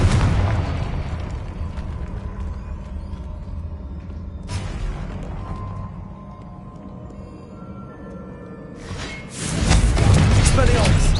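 Blasting-spell explosions in a Harry Potter video game: booming bursts over a rumbling background, with a heavier, sustained blast near the end.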